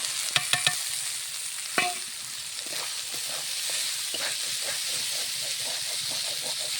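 Potatoes frying in a pan with turmeric, a steady sizzle carrying through, with a few sharp clinks near the start, then a run of rhythmic stirring scrapes as a utensil works the pan.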